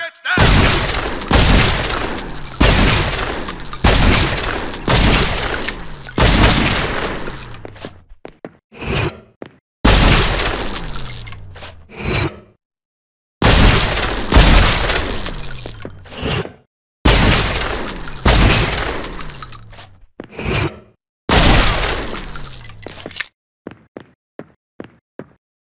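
Gunshots hitting targets in True Crime: New York City, loud bursts of rapid gunfire fired in several long volleys separated by short silences, with a few sparse single shots trailing at the end.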